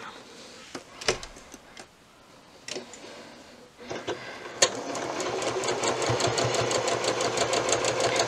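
A sewing machine stitches pieces of patchwork fabric. A few handling clicks and knocks come first, then the machine runs steadily and loudly from midway to the end, with no talking.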